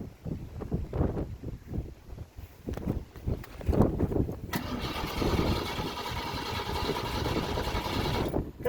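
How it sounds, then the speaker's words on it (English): A car engine cranks with the key and fails to catch, a rhythmic chugging starter sound for several seconds followed by a steadier whirring drone, heard fairly close. "See, it just wants to crank with the key for some reason."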